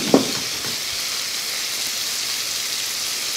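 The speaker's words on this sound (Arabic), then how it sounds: "لاصوص بيشاميل يبدا تغلي" Béchamel sauce bubbling as it comes to the boil for a chicken and potato gratin, a steady, even sizzle and popping hiss that stays level throughout with one brief knock near the start.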